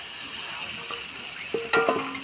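Fish fry in a spiced, sautéed onion-tomato paste in a pan, giving a steady soft sizzle with a few brief stirring clatters near the end.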